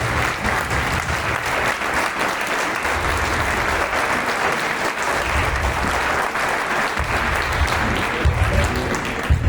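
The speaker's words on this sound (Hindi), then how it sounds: "जोरदार ताली के साथ अभिनेताओं का और कलाकारों का प्रोत्साहन करें" Audience applause rings out steadily for the actors and performers after a staged Mahabharat play, the Dhyut Krida dice-game episode, with dense continuous clapping from a crowd filling the room at even loudness throughout.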